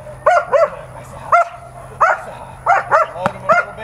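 Dog barking in repeated sharp bursts during protection training with a sleeve, loud and close, with a brief whine and a low steady hum underneath.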